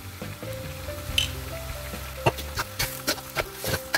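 Meat stir-fried with spices in a pan for sate padang gives a soft, steady sizzle, punctuated by several brief scraping and stirring clatters, fairly quiet and without talk.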